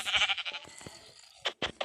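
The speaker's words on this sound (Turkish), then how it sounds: "koyun buldum" A video game sheep bleats in several short, bright cries, a burst at the start and more near the end, with quiet gaps between them and nothing else going on.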